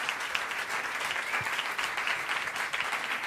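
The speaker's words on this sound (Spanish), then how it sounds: "Un fuerte aplauso para Pablo, por favor." Continuous audience applause at a jazz concert, dense and sustained clapping from a crowd filling the whole stretch.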